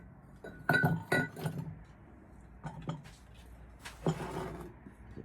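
Pieces of white milk glass, including vases, clink and chink as they are handled and set down, several light glassy taps in quick clusters, close and fairly quiet, with a brief spoken word.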